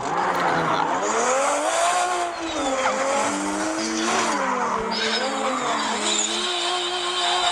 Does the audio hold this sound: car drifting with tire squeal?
yes